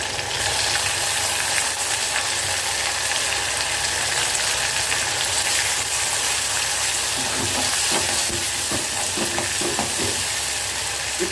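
Onions and tomatoes fry in a pan for a rain-season snake gourd pepper kuzhambu, a dense close sizzle running throughout, with clattering stirring scrapes growing more frequent in the second half; no voices.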